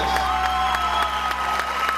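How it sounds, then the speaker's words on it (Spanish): Applause from a church congregation after a worship song, a steady clapping patter with a few distinct hand claps standing out, layered over a sustained musical tone. "si ese aplauso queremos que suba, tiene que ser más fuerte"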